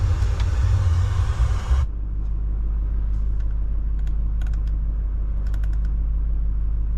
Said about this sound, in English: let's just fire it back up here and see if it is out of limp mode.